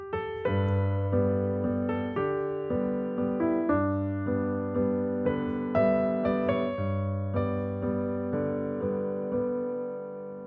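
Solo piano plays a slow, gentle arrangement of a song, with sustained chords and a melody note held a little longer, ringing clearly with no voices.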